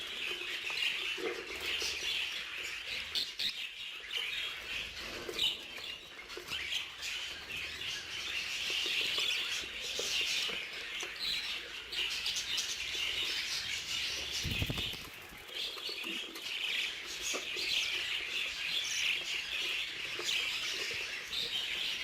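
A large flock of budgerigars in a breeding aviary chirps and twitters continuously, dense overlapping calls filling the space with occasional wing flutters, no talking.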